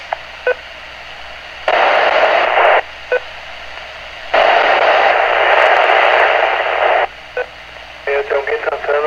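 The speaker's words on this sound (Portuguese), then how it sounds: "Tem alguém cantando, mas não está falando, só está saindo o portador" A ham radio carrier keyed with no voice on it comes through in several long bursts of steady hissing static, with short clicks and chirps between them and a fluttery tail at the end.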